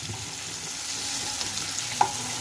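Steady sizzle of fish frying in a pan fills the whole stretch, a continuous crackling hiss with a small sharp clink near the end; no voices.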